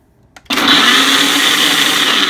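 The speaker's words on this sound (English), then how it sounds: "And then you click blend." A blender kicks on with a sudden loud roar after a brief click and keeps whirring steadily while mixing a boozy smoothie, motor noise close and constant.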